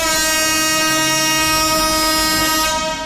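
A train's horn blares loud and sustained as the train moves, the steady tone holding for nearly the whole stretch over rumbling running noise before cutting off.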